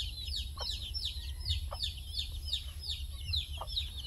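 Chicks peep in quick, repeated high chirps near a mother hen, which gives a few low, soft clucks beneath them over a faint background hum.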